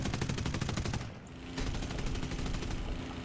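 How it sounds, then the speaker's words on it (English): Machine guns firing from the cockpit of a P-40F-10 fighter in War Thunder, a loud, rapid metallic rattle heard from close inside, with a short break before the steady chatter resumes over engine drone. "it sounds like I'm sat in the gun barrel, and the bullets are rattling out of the end of it"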